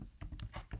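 Quick burst of computer keyboard typing: four or five crisp, close key clacks in rapid succession as a command-line entry is typed.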